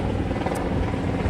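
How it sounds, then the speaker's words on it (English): A military helicopter passes overhead in a city, its steady low rotor rumble filling the clip at constant loudness without any voices. "Wait for that chopper to go over."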